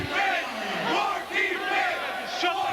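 A wrestling crowd chants in rhythmic, swelling waves of massed voices, loud and reverberant across the arena.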